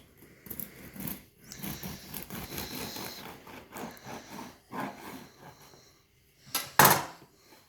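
A knife saws through a loaf of brown soda bread in rough, scratchy strokes, crusty crunching repeating in bursts with short pauses, then a sharp clatter near the end.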